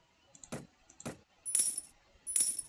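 Two short clicks followed by two bright, jingling bursts of coins in the video game Mount & Blade: Warband, crisp and close with brief pauses between.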